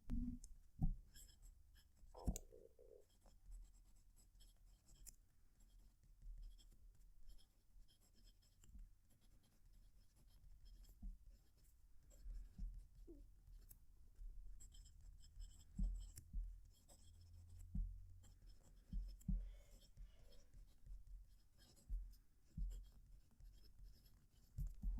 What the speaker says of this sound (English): I'm going to move the mic so you can hear the pen writing.